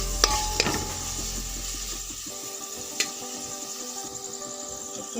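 Onions with ginger and garlic paste fry in a pan, a soft, steady sizzle with scraping and light clinks as a spatula stirs, close up and without talk.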